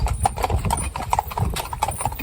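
Cob horse hooves clip-clop through a shallow puddle in a close, fairly loud and irregular run of splashy steps, with no one talking.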